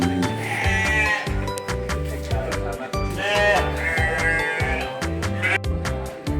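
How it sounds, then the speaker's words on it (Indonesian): Sheep bleating in a pen on a village livestock farm in Boyolali, Indonesia, a dense chorus of overlapping nasal bleats from several animals, loud and close, over constant rhythmic background clatter. "ini domba paling lucu yang pernah saya temuin di seluruh kandang ini"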